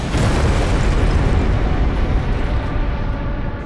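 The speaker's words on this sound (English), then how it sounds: "a very satisfying slow-motion camera shift followed by a delicious explosion" A loud, sustained explosion roars and rumbles continuously, dense and heavy, as a heavy combat helicopter boss is destroyed in Armored Core 6, filling the whole space.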